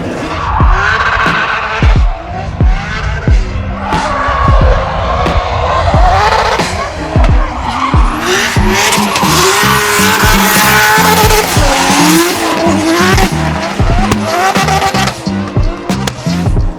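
Loud 2JZ-engined BMW E92 drift car revving hard with screeching tire squeal, bouncing off the limiter and howling continuously close by.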